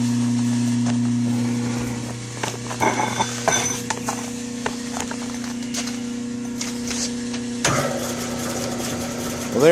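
Original Hardinge motor of a Hardinge TM mill running quietly with a steady low hum and a few faint mechanical clicks and clatters over it, close by.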